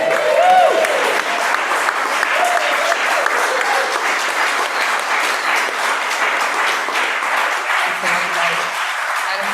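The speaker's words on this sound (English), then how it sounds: "Obviously, a huge round of applause for Paul Casey for putting this together." Sustained applause from an audience at a winter open-mic music showcase in Cork, steady and dense clapping throughout with faint crowd murmur and a voice briefly audible near the start.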